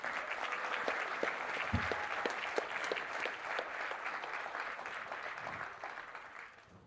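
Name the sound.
audience applause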